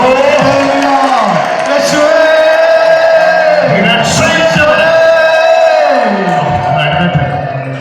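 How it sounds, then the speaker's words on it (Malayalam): A church congregation at a Christian healing service claps and calls out together, a loud, dense roar of cheering and shouting voices with harmonic chanting tones running throughout. "ഒന്ന് കൈയടിച്ചു വിളിച്ചോ."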